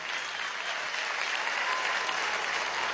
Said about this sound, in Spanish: Un aplauso al intelectual colectivo y orgánico